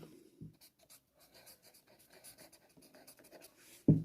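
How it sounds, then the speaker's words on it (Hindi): A teacher writes a sentence by hand in a classroom lesson, a steady run of soft scratching strokes over about four seconds, with a few louder knocks or taps at the start and end. "अगला सेंटेंस राइट किया जाए"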